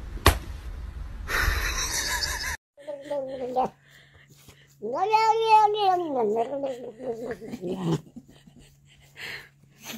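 A cat gives a drawn-out, wavering meow after several short mixed animal calls and bursts of noise. A steady low hum runs underneath.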